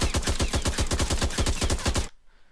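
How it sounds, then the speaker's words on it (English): An automatic weapon in an Unreal Engine 4 game prototype fires a rapid, evenly spaced burst of loud, close shots for about two seconds, then stops abruptly into near silence. "Hold down the trigger, it'll fire."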